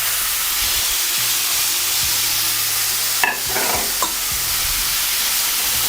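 Garlic, peppers and onions saute in a pan with a loud, continuous close sizzle and hiss, broken by a couple of brief clinks of a utensil against the pan.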